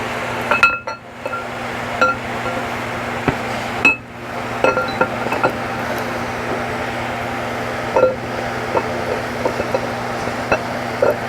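A greased camshaft slides into a 2005 Chevrolet Avalanche engine block with scattered sharp metallic clinks and knocks over a steady background hum, moderately close, no talk.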